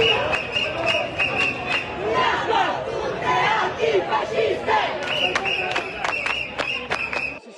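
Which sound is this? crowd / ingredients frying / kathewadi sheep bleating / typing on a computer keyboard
crowd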